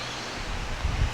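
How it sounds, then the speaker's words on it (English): Strong wind blows outdoors ahead of an approaching storm, roaring steadily and buffeting the microphone with low rumbling gusts toward the end. "It's getting very windy. It looks like there's a storm coming across."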